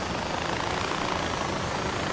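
Small plane engine in the video game Far Cry 4, a continuous droning propeller and engine roar at steady, fairly loud level with no speech.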